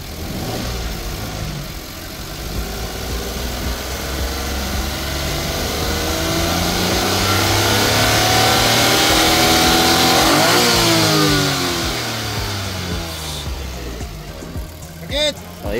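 A Suzuki DA17V 4x2 tiptronic engine revs up from idle, its pitch rising steadily to a peak and then dropping back, loud and near, with voices talking over it and a brief clatter at the end.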